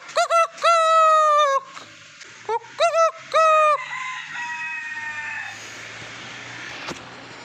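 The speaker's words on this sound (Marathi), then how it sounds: "कोंबडा आता बाग देणार वर पांढरा." A white rooster on a farm crows several times in a row, each call loud and drawn out, with short gaps between them, before quieter ambient farm noise takes over.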